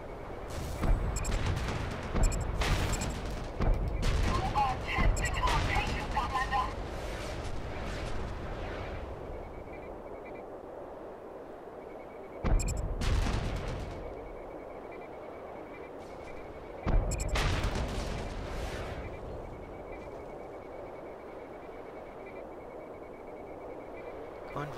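Bursts of heavy gunfire and blasts from the video game Red Faction Guerrilla come in three loud clusters, one long opening volley and two shorter later bursts, over a steady low hum of game ambience.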